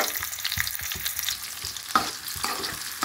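Onions and green chillies frying in oil for a radish chicken curry, a soft continuous sizzle with occasional scraping stirs and a sharp clink of a utensil against the pan, fairly quiet and close, no talk.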